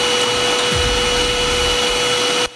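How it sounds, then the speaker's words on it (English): A vacuum cleaner runs in a school building with a steady, loud motor drone that continues unbroken and then cuts off sharply near the end. "he can't hear over the Hoover"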